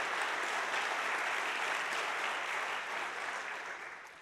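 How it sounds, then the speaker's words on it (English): An audience at a leadership awards ceremony claps in a sustained, dense round of applause that fades toward the end. "join me, please, in a round of applause for all of them"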